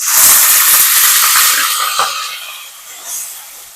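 Raw onion hits hot oil over whole spices in a pan for a village-style chicken curry, giving a loud, bright sizzling hiss that gradually settles and softens, alone without voices.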